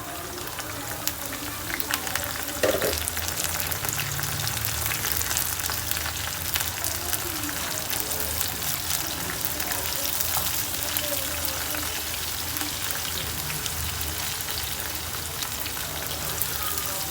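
Onion with garlic ginger paste frying in a pan gives a steady, crackling sizzle that runs unbroken at moderate level, with faint clinks now and then.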